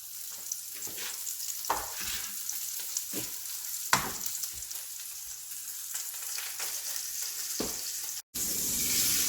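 Meat searing in a hot pan, a constant sizzle with scattered sharp clicks and scrapes as it is moved.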